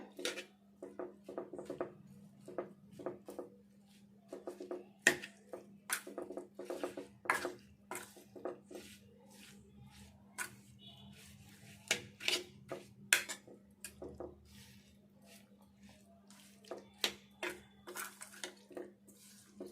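Tomato pieces and other ingredients are stirred together in a bowl for a Telugu chicken and horse gram curry, giving repeated clinks and scrapes of a utensil against the bowl in an irregular rhythm, close and fairly quiet.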